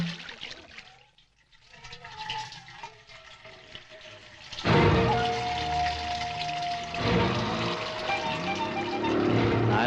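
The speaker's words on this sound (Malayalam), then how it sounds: "വെള്ളം ഒഴിക്കാൻ" Water gushing from a public corporation pipe, starting abruptly midway after a quieter stretch and then running loud and steady to the end.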